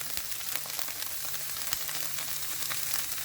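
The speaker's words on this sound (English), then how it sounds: "We are going to saute this okra for a few minutes." Okra and onions sauteing in a pan, with a soft, even sizzle and faint crackling throughout, fairly quiet and with no voices.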